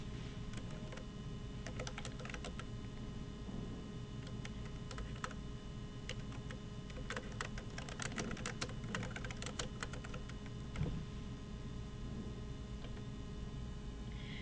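Computer keyboard typing in quiet, irregular bursts of clicking keys, clustered more densely in the middle, soft and close over a faint steady room hum.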